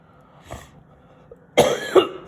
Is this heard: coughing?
yes